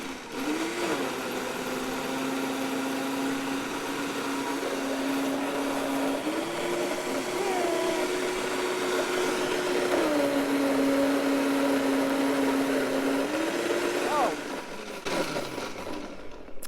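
A blender grinds raw vegan pumpkin pie filling, a loud steady motor whine that holds on and shifts pitch a few times as the thick mixture labors, then cuts off near the end with no talking.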